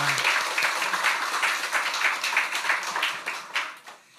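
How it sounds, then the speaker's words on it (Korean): Church congregation at a revival service applauding a choir in encouragement; dense, fairly loud clapping from many hands that continues steadily, then tapers off at the close. "격려 박수만 하겠습니다"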